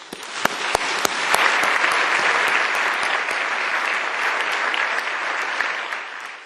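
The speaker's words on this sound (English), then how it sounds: "give our small businesses and those who sacrifice to make them a success a big round of applause" Sustained applause from a large audience at the Nevada governor's State of the State speech, dense clapping that swells early and holds steady for several seconds with a few sharp individual claps standing out.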